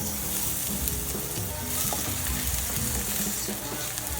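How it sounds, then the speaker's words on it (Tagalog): Cooking oil sizzling and crackling loudly in a pan, a steady, dense frying hiss with light stirring or scraping noises mixed in. "lagay tayo ng mantika"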